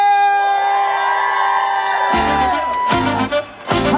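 At a Pride in Luton festival, a sustained held tone gives way to a loud crowd whooping and screaming for a singer, the cheers swelling in bursts.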